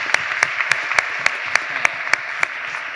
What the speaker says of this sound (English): we would give all of our officiators of the event a round of applause too